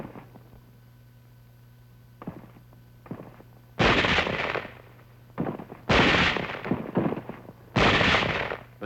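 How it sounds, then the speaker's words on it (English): Sniper and rifle gunfire as troops of the 38th Division move inland over rough hill country in WWII archive footage, with several loud sharp bursts and cracks over a steady hum and crackle. "Elements of the 38th Division moving inland over rough hill country run into some sniper fire."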